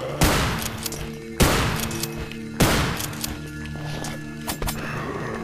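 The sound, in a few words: shotgun shots in the video game Afraid of Monsters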